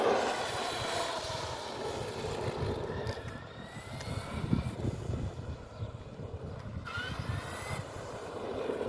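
An Arrma Kraton RC car runs at full throttle, a continuous high-pitched motor whine with rising and falling pitch sweeps, moderately loud and steady across the whole stretch.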